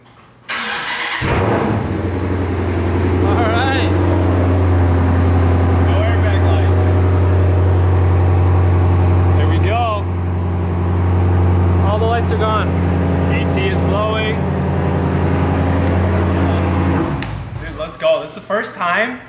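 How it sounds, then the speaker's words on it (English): A 2016 Dodge Challenger R/T with a manual gearbox cranks and catches after a second, then settles into a loud, steady, deep idle that runs for about sixteen seconds before it cuts off, followed by a few clunks. "This is gonna be the first time that we are starting the car up since we replaced the dashboard."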